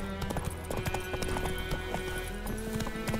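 Roach, a horse in The Witcher 3 video game, gallops in a quick, rapid rhythm of hoof clip-clops over a low steady game background, close and continuous throughout.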